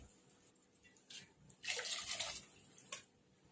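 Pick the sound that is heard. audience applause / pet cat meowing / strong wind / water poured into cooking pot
water poured into cooking pot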